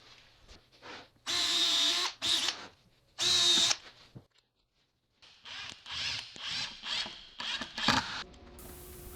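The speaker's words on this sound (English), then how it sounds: "Although I'll get this thing started with a small drill bit." A power drill with a small bit starts a hole in lumber, whining in several short high-pitched bursts separated by pauses, followed by quieter rattling and handling noises close by.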